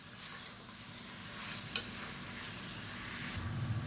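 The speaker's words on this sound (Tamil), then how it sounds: "லேசாக வதக்கி விட்டுக்கலாம்." A soft, steady sizzle of spices sautéing in a pan for a Tamil kulambu, with a single sharp clink of a utensil and quiet stirring.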